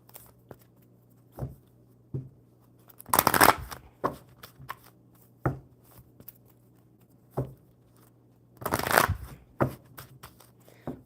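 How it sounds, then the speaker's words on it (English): Playing cards being riffle-shuffled at a table during a casual coffee-and-cards livestream, close and crisp, in several distinct bursts separated by lighter taps and card handling, with no talking. "One more good shuffle, and we'll see what comes out for Lisa."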